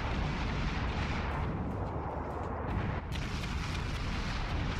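Warship guns firing in the naval game World of Warships with a team of Atlanta cruisers, a dense continuous roar of overlapping booms and rumbling blasts at steady loudness.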